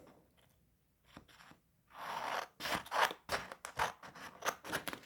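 Scissors snip through paper to cut out a hand-drawn square, giving a run of close, crisp crunching cuts after a quieter start with a few faint handling taps.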